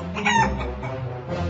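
Cartoon chicken in a children's animated rescue game, clucking and crowing in a short, close, lively burst over light background music.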